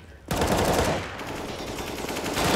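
Rapid automatic gunfire in a Counter-Strike match, a loud dense burst that begins abruptly and keeps rattling at full intensity.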